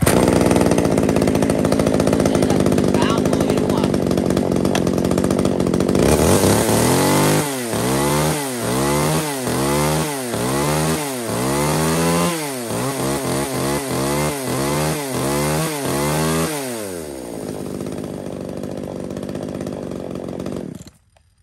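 Gasoline chainsaw of a Japanese-market brand such as Stihl, Echo, Shindaiwa or Makita, idling loudly and then revved in a run of repeated throttle bursts before cutting off, close and alone.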